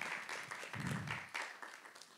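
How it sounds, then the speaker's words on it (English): A university conference audience at a DeFi panel applauds the speakers, steady clapping from a moderate-sized crowd, heard from some distance and sustained throughout. "Let's give them another round of applause"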